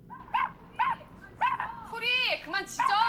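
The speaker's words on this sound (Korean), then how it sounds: "뭔가 강아지가 이유 없이 짖기 시작하죠" A pet dog barks in a run of sharp, loud barks close by, then breaks into higher yips and whining whimpers, with a voice speaking between the outbursts.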